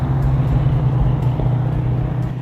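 A 1967 Ford Mustang GT500 restomod drives along with a steady, loud engine drone and low rumble that carries throughout, with no talk over it.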